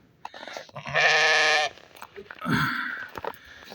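Lambs for sale bleat in two loud, wavering calls close up, the first long and strong, the second shorter, with faint rustling and background sounds between.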